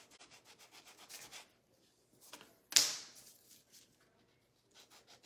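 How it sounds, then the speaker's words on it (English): Sandpaper rubs along the edge of a wooden spindle heart in short, close strokes, with a louder scrape partway through. The rubbing is quiet and no one talks. "I'm just using the side of my sandpaper."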